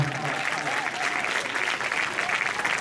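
Audience applause at a school talk by Bijesh Chelari at PEMS CBSE, a steady dense clapping that fills the room at close range for about three seconds.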